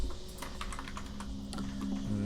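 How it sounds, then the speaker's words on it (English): Keys clatter on a computer keyboard as a character name is typed for a Dungeons & Dragons Online game, rapid irregular taps over a steady background hum. "let's go ahead and type in our character name"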